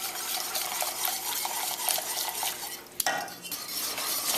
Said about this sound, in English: I'm just going to strain that directly into the pot. And I'm just going to whisk that.